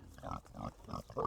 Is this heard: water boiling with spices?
no